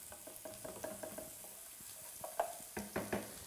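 Chopped red onions frying in olive oil in a pan, a quiet sizzle broken by repeated scraping stirs that grow louder and more clattery toward the end.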